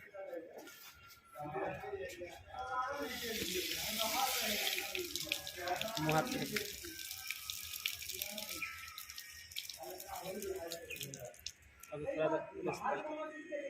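An outdoor tap runs with a steady hissing gush of water under several people talking loudly nearby.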